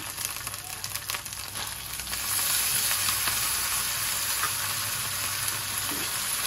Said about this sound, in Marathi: टोमॅटो पण चांगलं याला मऊ होईपर्यंत आपल्याला परतायचं